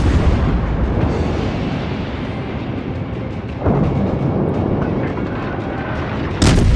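Naval gunfire in the World of Warships video game, a continuous heavy rumbling roar of battle with deep booming salvos landing near the middle and at the end.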